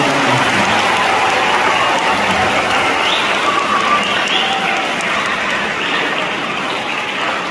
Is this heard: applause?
yes